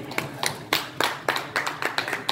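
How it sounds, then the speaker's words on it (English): A church congregation at a Sunday evening service claps hands in an uneven rhythm, about a dozen sharp claps over a couple of seconds, moderately loud and close. "Give a Lord a hand clap."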